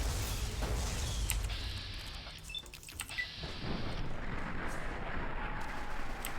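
Gauss rifle fire in Fallout New Vegas on Very Hard, heard as booming, cannon-like discharges with metallic mechanism clatter over a constant dense game soundscape, loud and sustained throughout.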